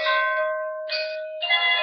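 The Jingle Bells melody plays as a series of clear, bright bell-like notes in a few short phrases, steady and fairly loud with no voices over it.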